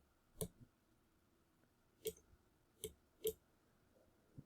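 Four or five sharp, close computer mouse clicks at uneven intervals in a quiet room, with a few softer taps between them, while someone works in Photoshop.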